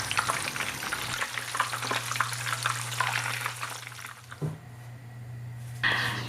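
Pork meatballs fry in oil over low to medium heat, a close, steady crackling sizzle with a low hum beneath, briefly interrupted by a clatter before the frying hiss continues.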